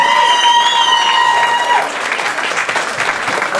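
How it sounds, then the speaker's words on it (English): Big round of applause for Peter at a birthday quiz and speeches gathering; a sustained musical tone fades out as many hands clap steadily and loudly up close, with a few cheers. "give Peter a big round of applause"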